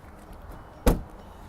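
A single soft thump of a plastic center console lid folding shut inside a 2017 Ram 1500 Limited 4X4 pickup, brief and close, with quiet background hiss before and after.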